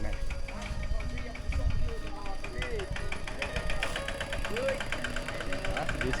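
Farm tractor engine in a rural Lao village in the morning, a steady knocking diesel chug at moderate distance beneath someone talking and other village sounds.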